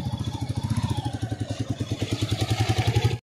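A new motorcycle's engine running close by: a loud, rhythmic pulsing thump at a steady idle for about three seconds, cutting off abruptly at the end.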